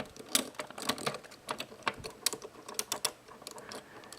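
Small clicking and ratcheting of a metal-and-plastic Bandai Brave Gokin 39 Boss Palder robot toy's jointed limbs being moved by hand, a close series of sharp irregular clicks with short pauses.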